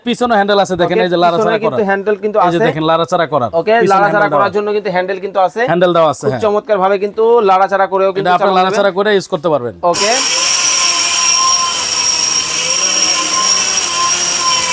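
A Steel Bush robot blender switches on at around ten seconds and runs with a loud, steady whirring drone after a stretch of continuous talking.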